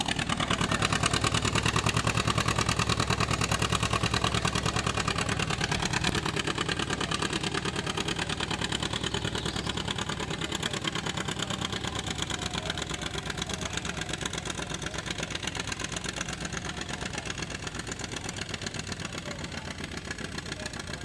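A John Deere two-cylinder tractor with a 413-cubic-inch engine labors steadily at a barnyard tractor pull in the 5500 lb class, a loud continuous engine roar that holds for the whole stretch with no talk over it.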